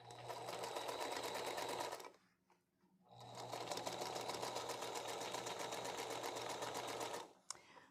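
A sewing machine stitching quilt fabric, running in a fast, even whir for about two seconds, pausing briefly, then stitching steadily again for several seconds before stopping.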